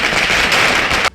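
Celebrating Congress supporters gathered in one spot set off fireworks in a loud, dense crackle of rapid pops that cuts off abruptly at the end, with no speech.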